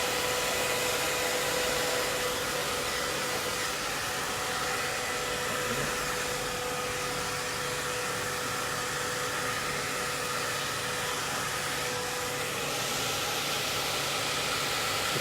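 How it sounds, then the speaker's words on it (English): A hair dryer blows steadily at close range while a short bob haircut is blow-dried, its loud, continuous whooshing airflow holding an even level throughout with no talking. "So we're almost done with the blow dry."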